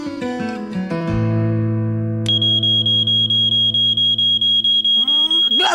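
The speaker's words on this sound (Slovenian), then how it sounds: "Če bo v hiši kaj gorelo, nas bo ta alarm takoj opozoril." A smoke alarm in a cartoon house sounds with loud, rapid, evenly spaced high-pitched beeps that take over from earlier sustained musical tones.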